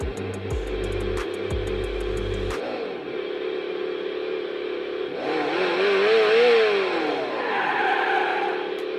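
An RC car fitted with an electronic sound kit plays synthetic engine noise: a few rhythmic startup pulses, a steady hum, then a rising-and-falling rev that swells and fades, loud and close with no voices.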